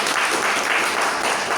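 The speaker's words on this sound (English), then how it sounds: "A round of applause." Brief burst of audience applause at a Toastmasters club meeting, a dense, even wash of clapping from a room of members at steady loudness.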